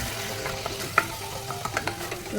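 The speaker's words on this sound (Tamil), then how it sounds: "இந்த தக்காளி நல்லா மேஷ் ஆகிற வரைக்கும் நாம் வதக்குவோம்" Tomatoes sauté in a pan for chicken kurma, giving a quiet, steady sizzle broken by a few soft scraping stirs of a spoon.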